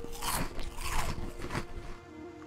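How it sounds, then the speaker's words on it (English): Crunchy eating of chips in a survival video game, several crisp biting crunches in quick succession, close and fairly loud with no talking. "Eat some chips."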